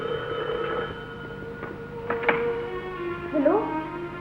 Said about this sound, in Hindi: अब्बू, अख्तर चचा का फोन है, की बात कीजिए